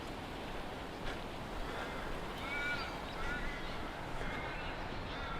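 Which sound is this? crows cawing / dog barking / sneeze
crows cawing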